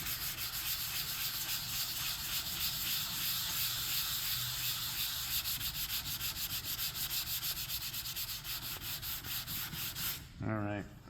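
Continuous rhythmic rasp of sandpaper working hardened Bondo body filler on a car panel, close and steady with fast back-and-forth scrubbing strokes, ending abruptly as a voice begins to speak.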